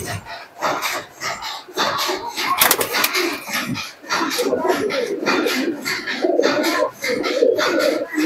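Teddy pigeons at a bird market give soft repeated coos, close and loud, mixed with rustling and handling noises while people talk nearby.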